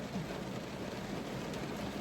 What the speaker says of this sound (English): I'm happy that it's raining